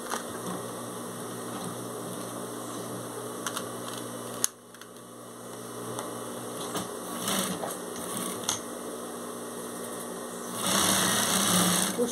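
A sewing machine stitches a fabric strip onto a scrap-fabric rug base, its steady mechanical whir running close and continuous, with a brief pause midway, small clicks, and a louder buzzing burst near the end.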